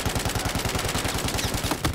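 Rapid automatic gunfire from the player's own weapon in Battlefield 4, a close, loud, steady stream of shots at an even rhythm with no pauses and no talking.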